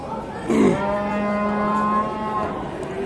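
Two-year-old bulls at the Özgön livestock market bellow in a single long, drawn-out moo that swells near its start and then holds a steady tone, with faint market background around it.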